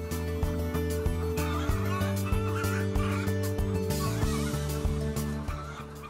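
Hens in an enriched colony housing system keep up a steady, dense clucking and squawking, heard against a constant mechanical hum that continues throughout the clip.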